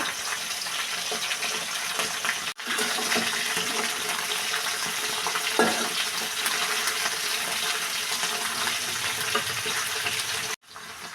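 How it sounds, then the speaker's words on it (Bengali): Potatoes sautéing dry with panch phoron in a pan: a steady, close, loud sizzle that runs unbroken for the whole stretch, with two brief gaps and no talking. "আগে একটু খালি খালি কষিয়ে নিব"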